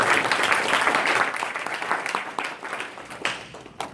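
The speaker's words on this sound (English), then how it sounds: "Oh yeah, round of applause." Audience applause at a live UX design event: a burst of dense clapping that starts strong, then thins and tapers, leaving a few scattered louder claps near the end.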